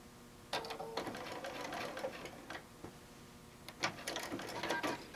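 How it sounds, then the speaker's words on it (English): A sewing machine stitches a quilt row with a steady mechanical whir, running in bursts with short pauses. It sounds close and fairly quiet, with no talking. "go ahead and just sew the row"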